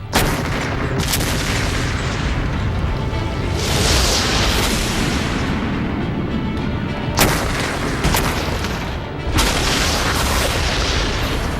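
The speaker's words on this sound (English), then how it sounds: "I'm going to blast holes in that boat with this cannon" Cannon blasts fired at a boat boom loudly in a dense, continuous barrage, with sharp bursts standing out near 1, 4, 7 and 9.5 seconds over rumbling sustained noise.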